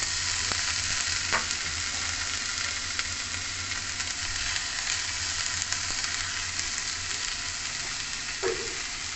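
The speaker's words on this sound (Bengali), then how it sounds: "গ্যাসের ফ্লেমকে লো টু মিডিয়াম রেখে এটাকে ভালো করে একটু কষে নেব।" Mashed banana flower and crushed boiled potato fry in a pan over a low to medium gas flame, with a steady close sizzle broken by occasional scraping stirs of a spoon.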